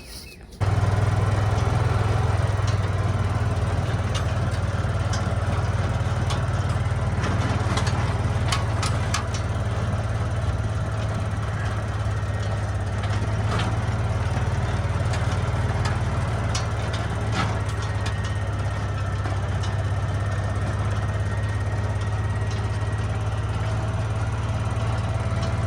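An engine-powered auger digging a fence post hole on a farm, a loud, steady motor drone running continuously with a low rumble and scattered thuds and rattles, up close.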